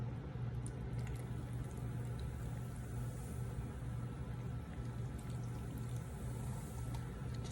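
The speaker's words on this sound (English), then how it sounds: "Just pour it over, and that's what it looks like." Sugar sauce poured over apple dumplings in a home kitchen, a steady soft liquid pour with a continuous low hum running underneath, no one talking.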